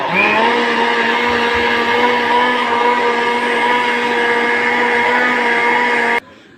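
A kitchen blender whirs at a higher speed setting while mixing a homemade yogurt dessert, a loud, steady motor whine that holds constant for about six seconds and then cuts off abruptly.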